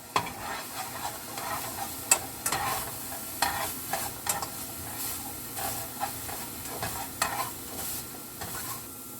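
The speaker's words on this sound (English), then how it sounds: "you're going to saute your onions" Steady sizzling and hissing from a hot frying pan as onions sauté in water, with occasional stirring scrapes and clinks, close by and continuous.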